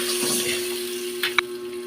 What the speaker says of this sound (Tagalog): Lagyan po ng tubig.